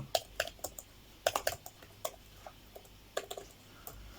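Typing on a Huawei MatePad 11 keyboard case, a string of sharp, close key clicks in irregular bursts with short pauses between them, heard alone against a quiet background.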